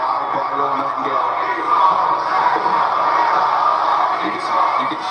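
A raucous arena crowd at an AEW wrestling event in Atlanta roars steadily during a women's match, with dense shouting and cheering and commentators talking over it.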